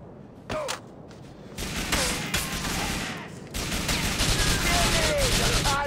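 Loud video game gunfire in Grand Theft Auto IV, with rapid, overlapping bursts and single shots that continue almost without a break, close and heavy, with voices shouting in between.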